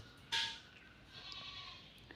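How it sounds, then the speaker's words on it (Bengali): A goat gives a single short, clear bleat, followed by a quieter, drawn-out bleating tone against faint background noise. "ছতে ছাগল"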